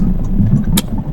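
A car's engine idles with a low, steady rumble after the vehicle stops at night beside a dark jungle road in the Morni hills, with a brief sharp click near the end.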